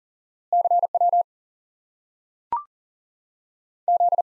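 CW Morse code practice tone repeating a single element: two short bursts of clean, evenly keyed beeps separated by silence, with a brief click in between.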